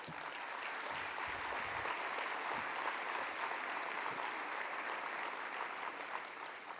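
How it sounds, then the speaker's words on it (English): An audience at a press freedom award ceremony gives a round of applause for a guest, even and continuous clapping that stays level and fairly distant from start to finish. "Please give him a round of applause."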